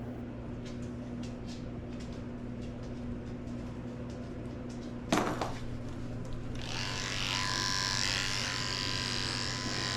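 Electric grooming clippers fitted with a 7-blade run as a steady, close buzzing hum on a senior Shih tzu mix, with a brief clatter midway and a brighter, louder whine as the blade passes over the coat.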